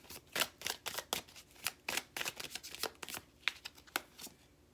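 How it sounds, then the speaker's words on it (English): Oracle constellation cards shuffled by hand in quick, close, crisp riffling bursts with short irregular pauses, quiet overall. "let's pull some oracles. some constellation cards for you."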